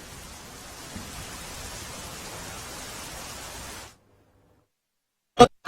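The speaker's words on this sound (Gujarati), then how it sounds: "નવસારી જિલ્લામાં પણ સતત વરસાદ વરસી રહ્યો છે" Steady rain hiss fills the first four seconds, then cuts to silence, followed by two brief loud bursts at the end.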